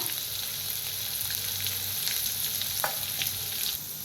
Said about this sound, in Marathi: आता चांगलं जरा भाजून घेऊया आपण लसूण लाल मिरची चांगली भाज आपण भाजून घेऊया